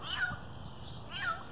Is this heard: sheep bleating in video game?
no